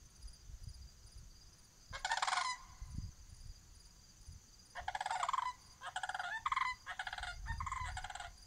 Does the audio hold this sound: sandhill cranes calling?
yes